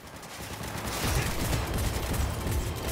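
Smart gun gunfire in Cyberpunk 2077, a dense, continuous volley of rapid shots that thickens after the first second and stays loud and unbroken.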